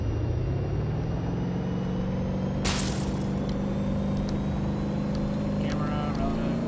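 A car engine accelerates in BeamNG.drive with a steady rising drone and whine held loud and continuous, a brief crash-like burst partway through, and a voice talking over it.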